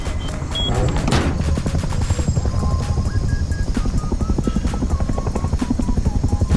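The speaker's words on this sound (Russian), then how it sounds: "Коптер над нами еще один." A helicopter in the survival game Rust flies overhead, its steady rapid rotor chop loud and continuous throughout, with a sharp impact early on and faint mechanical tones behind.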